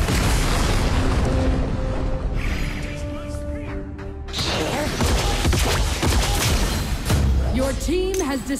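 A tower collapses in the Arena of Valor mobile game with a heavy boom and crashing debris amid game music and announcer-style voice effects, loud and dense throughout.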